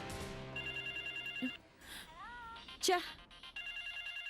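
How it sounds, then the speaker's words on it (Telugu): A phone rings with a repeating electronic ringtone in regular pulses, pausing as someone speaks briefly and then resuming. "ఇది ఈ టైంలో ఫోన్ చేస్తుందేంటి?"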